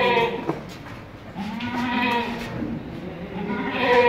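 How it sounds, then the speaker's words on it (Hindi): Large goats bleat at Barkat Goat Farm in Mumbai, several drawn-out, wavering calls rising over a steady background of farm noise, moderately close. "सिर्फ बकरा ही यहाँ पर।"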